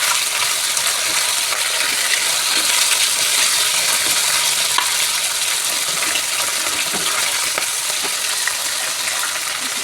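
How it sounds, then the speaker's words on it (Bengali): A large catla fish head, broken into pieces, fries in oil in a wok, giving a loud, steady, dense sizzle with faint clinks of stirring throughout. "ভেঙে ভালো করে ভেজে নিচ্ছি"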